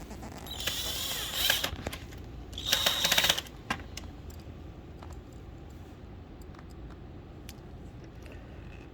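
Two short bursts of a small hand-held power driver running hex screws into the drum unit of a Fuji Xerox copier, each a brief whirring buzz, close and fairly loud, followed by quiet clicks and handling.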